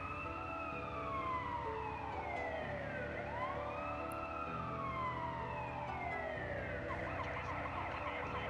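An ambulance siren in the SimCity 4 Deluxe city-building game wails in steady rising and falling sweeps, loud and continuous, with no voices over it.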